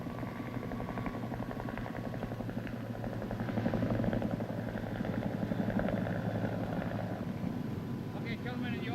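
A helicopter drones steadily with a rapid rotor chop, loud and constant throughout, with some faint voices mixed underneath.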